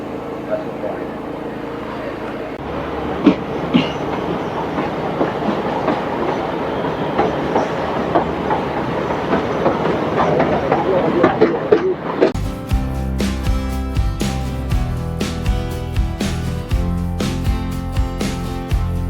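A 110-year-old narrow-gauge train between Bilimora and Waghai rumbles along its rails with a steady clatter, and partway through the sound shifts to a louder, more rhythmic clanking close by, with some talking over it.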